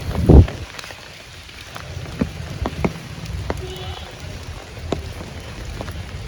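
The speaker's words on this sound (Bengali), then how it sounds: "আর বৃষ্টি দেখুন পড়তেই আছে" Heavy rain falls steadily near a banana-trunk footbridge over brimming floodwater, a constant hiss with scattered nearer drips and splashes and one louder thud at the start.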